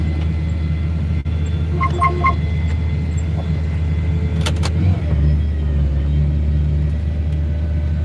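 Vehicle engine rumbling steadily while backing up a four-wheel farm trailer, a loud low continuous drone heard from inside the cab, with a couple of brief clicks and knocks.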